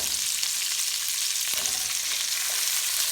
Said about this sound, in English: And just stick your green beans in the pan.